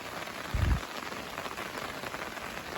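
Heavy continuous rain falls in Samahni valley, Azad Kashmir, a steady dense hiss of drops on surfaces with one brief low thud near the start and no voices.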